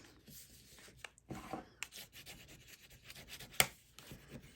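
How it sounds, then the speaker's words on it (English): Bone folder burnishing freshly glued paper on a mini album belly band, a quiet dry rubbing and scraping in short uneven strokes with a few soft taps, close by. "And we burnish that."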